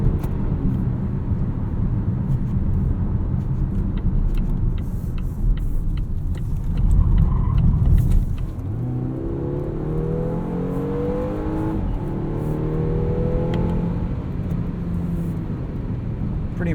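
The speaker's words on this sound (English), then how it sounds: "So let's throw it into sport mode here, or dynamic mode, and see how this does around some corners" A 2019 Volvo V60 T6 AWD Momentum on 19-inch wheels is driven through corners in dynamic mode. A steady engine and road hum swells, then the revs climb and fall in repeated rising pulls.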